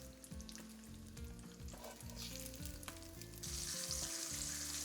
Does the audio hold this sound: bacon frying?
yes